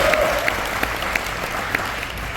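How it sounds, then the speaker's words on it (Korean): An audience at a book launch celebration gives a steady round of applause, even and full, with a few sharper claps standing out near the front. "우리 대단한 이영만 교사 박수 한번."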